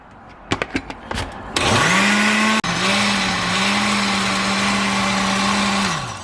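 Onions for hen pepper soup are chopped in a Ninja Foodi blender: a few quick pulsed bursts, then a loud continuous motor whine with a short dip midway before it winds down.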